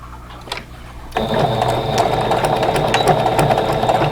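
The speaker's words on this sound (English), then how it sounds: "go back under the presser foot and start a 1/4 inch down from that raw edge" Sewing machine stitching binding onto a quilt, starting quietly then running steadily from about a second in with a continuous close mechanical whir and rapid needle rattle.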